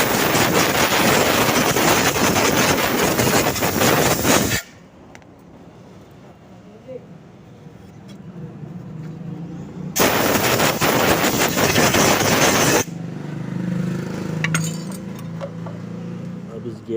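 Compressed air blasts onto a cleaned Vespa kick-start gear in two loud, hissing bursts, the first about four seconds long and the second about three, with quieter workshop clinks between them.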